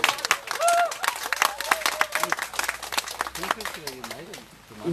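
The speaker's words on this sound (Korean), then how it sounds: "다시 한번 박수 부탁드립니다" An audience claps at a candlelight gathering, with scattered, uneven clapping mixed with voices and crowd noise, fairly close and lively throughout.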